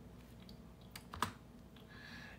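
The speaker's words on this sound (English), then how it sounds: "And once again, I'll type in PCGS number." Someone types a number on a computer keyboard, making a quiet, close run of short, uneven clicks with one louder keystroke near the middle.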